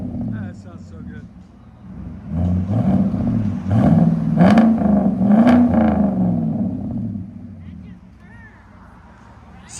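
A 2018 Chevy Silverado Z/71 with a 5.3L V8 and true dual Flowmaster Flow FX exhaust revs up and settles back, a deep throaty rumble rising and falling nearby.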